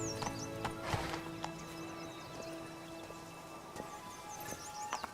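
Hooves clip-clop as the horse Roach trots in The Witcher 3: Blood and Wine, a rhythmic beat with one whinny, birds faint in the background.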